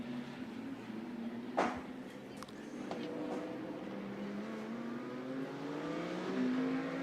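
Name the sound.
GT2 race cars exiting the chicane at Monza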